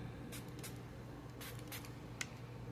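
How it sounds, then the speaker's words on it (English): A cleaning spray bottle being squirted indoors, about five short hissing bursts in quick uneven succession, faint and close against a quiet background hum. "That's a cleaning spray."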